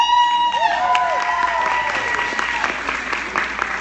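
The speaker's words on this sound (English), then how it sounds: "Everybody clap anyways." An audience at a Young Living company meeting claps and cheers under loud feedback-like tonal ringing and sweeping whistles, with a dense patter of applause filling the room throughout.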